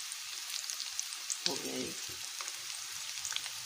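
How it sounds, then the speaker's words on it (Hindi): Rice koftay sizzle steadily in hot oil with a dense, crackling hiss throughout, while a voice speaks briefly over the frying. "देखिए कितनी अच्छी फ्राई हो गई।"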